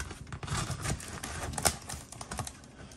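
Cardboard packaging for an Osprey E300-VU33P FPGA miner being cut open, a quiet burst of close scratching and slicing clicks lasting a few seconds.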